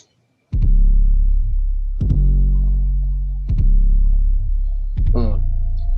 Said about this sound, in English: So the 808 sounds like this.